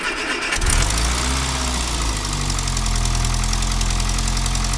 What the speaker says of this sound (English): Is that ticking over, or is that you revving it?